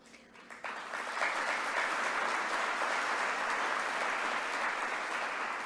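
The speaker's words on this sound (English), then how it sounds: "You guys are great clappers." Steady, loud applause from a large audience at a 2018 State of the City Address, building up quickly and then holding an even, dense clatter of clapping throughout.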